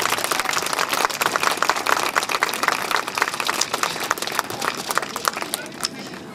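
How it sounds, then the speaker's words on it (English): An audience at a Queen's Diamond Jubilee celebration ceremony applauds the volunteers, a dense, continuous round of clapping that tapers slightly toward the end. "There's one other little short round of applause I'd like to ask for just before we get going."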